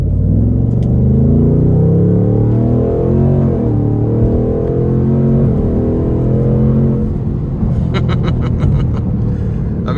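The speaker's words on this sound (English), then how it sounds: "I'm gonna give it a little something just so we can hear it in the sport mode" A 2026 Ford Mustang GT Premium's engine accelerates in sport mode on a wet road, its loud deep roar climbing steadily in pitch from inside the car and ending in a few quick crackles.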